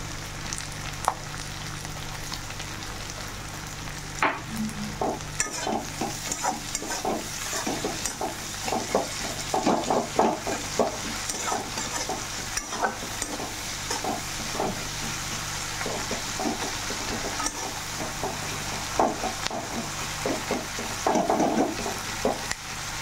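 Onions fry in a pan for a fish-head ghata, a steady close sizzle with frequent spatula scrapes and stirring knocks throughout.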